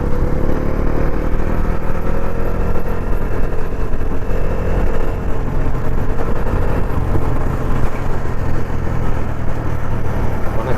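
A Bajaj Dominar 400 motorcycle rides steadily along a road, its engine drone and wind rush loud and continuous throughout with no break.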